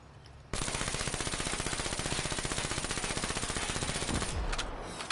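Rapid automatic gunfire from a Call of Duty game rattles out in a long, even, unbroken burst, loud and close, after a brief quieter lead-in.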